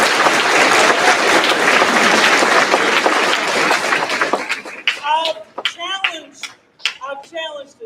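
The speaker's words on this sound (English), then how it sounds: "I want to say thank you to the band directors that have brought their kids here. Please give them a round of applause" An audience at a university honor band concert applauds the band directors, loud dense clapping for about four seconds that fades out as a voice starts speaking over the tail.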